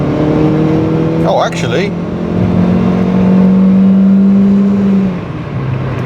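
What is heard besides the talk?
car engine accelerating at full throttle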